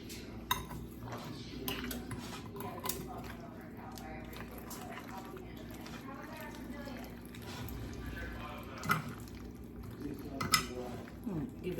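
A pot is stirred on the stove, with soft clinks and scrapes of a utensil against metal and light watery sloshing, faint and close, while someone talks over it.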